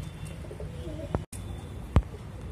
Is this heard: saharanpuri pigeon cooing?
yes